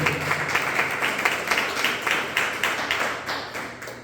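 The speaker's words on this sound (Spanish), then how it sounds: "¿Por qué no le aplaudan a Dios?" A church congregation claps for God in a steady rhythmic beat, palms striking together in regular pulses at a moderate, even volume, with no talking over it.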